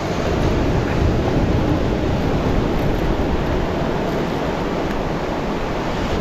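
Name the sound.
ocean waves on the BC coast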